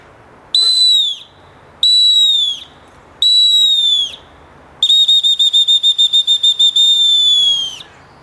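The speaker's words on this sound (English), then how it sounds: "This is a final whistle," A homemade emergency whistle cut from willow bark is blown loud and close: three long shrill blasts, then a fourth long blast broken into rapid warbling pulses. No one speaks.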